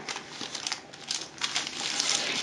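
Parchment paper crinkles and rustles close by in quick, irregular crackles as a sheet is handled and pressed over a tray of cat treats, soft but continuous.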